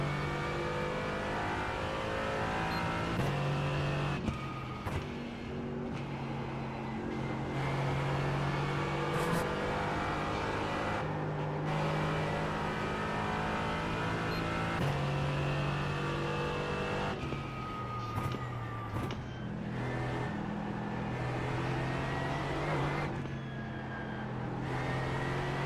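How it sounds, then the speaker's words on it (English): A NASCAR Truck Series race truck roars steadily at Kansas Speedway during the Heart of America 200, its engine revving and shifting through gears with loud, sustained drone and brief dips between upshifts. "Car sounds good."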